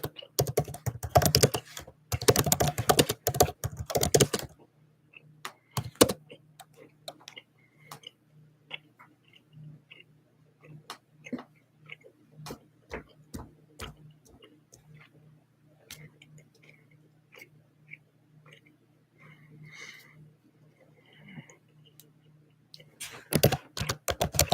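Rapid typing on a computer keyboard, with dense bursts of clacking keys at the start and end and sparser, quieter individual key taps in between, close by and with no talking.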